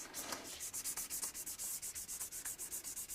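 A guitar body's lacquer gets a fine sanding with 1,500-grit paper on a block, a soft rhythmic rubbing. Quick, even back-and-forth strokes sound close but faint, with no talk over them.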